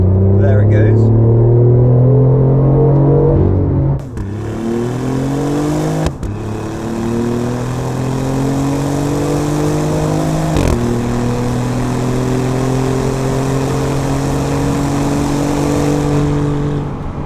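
BMW i8 with a stainless valved exhaust, revving steadily and loudly with deep harmonic engine tones rising and dropping through gear changes, the note swelling as the valve opens, under a voice.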